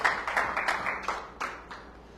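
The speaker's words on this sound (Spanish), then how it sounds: "Aplauda fuerte al Rey." A church congregation claps in a short ragged round of applause, a few sharp clustered claps close by that thin out and fade within a couple of seconds.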